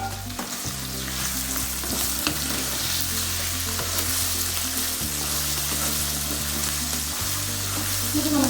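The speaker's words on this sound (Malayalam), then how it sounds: "ഇത് നമുക്ക് നല്ലപോലെ ഒന്ന് വഴറ്റി കൊടുക്കാം." Chopped onion, garlic, ginger and green chili sautéing in a pan for chilli beef, a steady loud sizzle throughout with occasional stirring scrapes and no talking.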